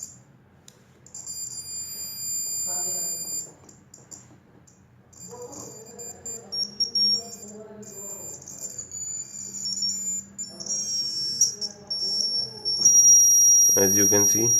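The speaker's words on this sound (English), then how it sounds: "we can change the frequency of this buzzer by rotating this" Piezo buzzer driven by a 555 timer PWM generator, shrill electronic tones stepping and sliding in pitch as the frequency is changed, with a voice speaking intermittently underneath.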